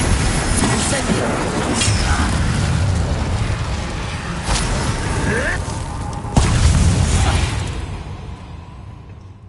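Incendio fire spell cast in Hogwarts Legacy: a loud, dense roaring whoosh of magical flame with booming bursts fills the scene, swelling near the end before thinning out into quieter rumble.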